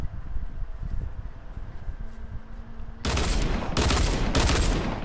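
Bursts of gunfire in Fortnite, a squad match: after quiet ambient rustle, three sharp, loud volleys of rapid shots ring out close together in the second half.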